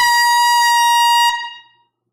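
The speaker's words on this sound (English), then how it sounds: "We broke the air horn streak last night. Bringing it back tonight." An air horn blasts one loud, steady tone for over a second, then cuts off and rings out briefly, during a live record sale stream.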